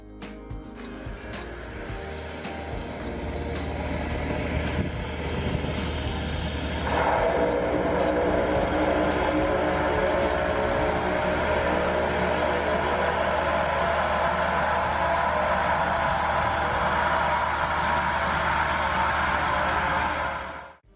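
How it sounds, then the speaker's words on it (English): Aircraft with Pratt & Whitney engines at the Barra beach airport, a loud steady propeller drone that swells after a few seconds and holds strong and close throughout, with no talking. "Just listen to the awesome sound of those Pratt & Whitney engines."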